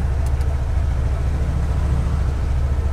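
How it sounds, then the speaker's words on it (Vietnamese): A used black Vietnamese motorcycle, about 7,182 km on the clock, idles steadily after starting, a smooth low engine hum running continuously and close by with no talk. "nổ máy tiếng máy"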